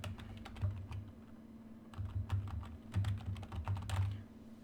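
Fingers typing on a computer keyboard in a lab setting, producing bursts of quick, close key clicks with short pauses between them over a steady low hum.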